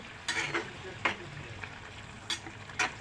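Salted chicken pieces frying for a white chicken korma, giving a steady sizzle with a few sharp stirring scrapes of a spoon against the pan, close and moderately loud, no talking.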